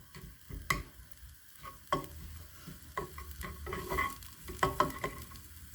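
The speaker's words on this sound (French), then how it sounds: "On met les échalotes. On les fait revenir un tout petit peu." Shallots sizzle and crackle in a hot pan, with scattered pops and a few stirring scrapes, close and fairly quiet.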